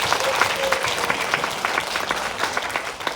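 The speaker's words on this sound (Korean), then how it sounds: "그럼 우리 박수 한번 치고." A lecture audience claps together in dense, sustained applause that fades slightly at the end.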